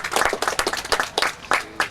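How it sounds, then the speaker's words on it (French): A conference audience claps together, a dense burst of close, rapid handclaps that stays steady and fairly loud through its short length. "on peut vous applaudir."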